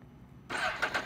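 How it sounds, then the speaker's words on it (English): A motorcycle engine starting, a sudden loud catch and burst of running engine after a brief quiet moment, then a rough uneven idle. "what we're gonna do is we're gonna start the engine"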